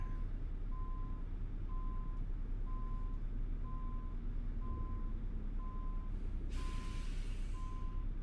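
Trucks reverse in a traffic jam in American Truck Simulator, with a steady backup alarm beeping at an even rhythm over a continuous low engine rumble, followed by a brief hiss of air near the end.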